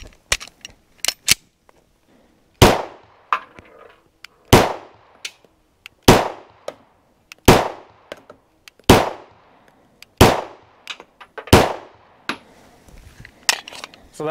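Pistol fitted with a ported Echelon barrel fired at a range: a few quick shots, then a slow, evenly spaced series of loud, sharp reports with short ringing decays.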